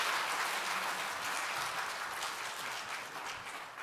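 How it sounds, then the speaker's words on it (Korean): A church congregation at a Sunday anniversary service applauds: a steady, dense wash of many hands clapping at once, fairly even in loudness throughout the short stretch. "박수로 축복해 주시기 바랍니다."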